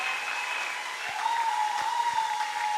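A church congregation applauds the team accompanying the pastor, with a steady wash of clapping from a crowd and a faint sustained tone running underneath.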